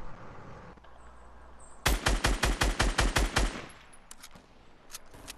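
Automatic gunfire in the video game Fortnite: a loud burst of about a dozen rapid, evenly spaced shots, followed by a few fainter scattered shots.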